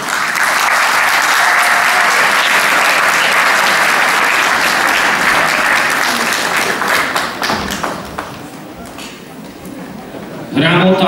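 Sustained loud applause fills the hall at a children's festival awards ceremony, steady clapping from a large audience that thins out toward the end as a voice begins to speak.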